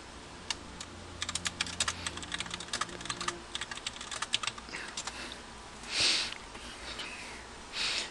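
Rapid, close clicking of keys on a computer keyboard sounds as someone types a chat message, in uneven bursts for several seconds before it stops and a couple of sniffs follow.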